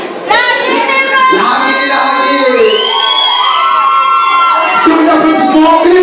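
Loud crowd cheering and shouting at a Réunion beauty pageant, with high whoops and squeals riding over a constant roar of many voices close by.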